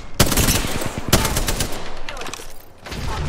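Rapid bursts from a Spitfire machine gun in a video game, loud and close, with two sharp heavy shots cutting through continuous automatic fire that thins briefly near the end.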